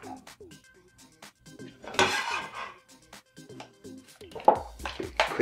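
Crab cake ingredients are mixed with mayo in a bowl, making close clinks and scrapes of a utensil against the dish in uneven bursts, with a few louder rattles.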